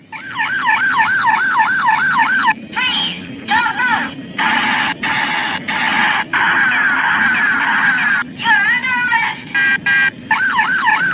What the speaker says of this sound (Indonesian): Ada mobil polisi juga teman-teman tuh.